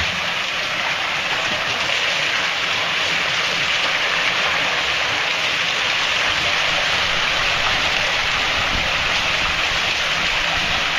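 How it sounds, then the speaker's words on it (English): Water mill running at a living history museum on Shoal Creek, with a steady, loud rushing of water spilling down into the creek, continuous and close, with no talk. "Got the mill going."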